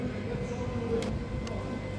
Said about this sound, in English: So I'm here at Paddington. This is the train station.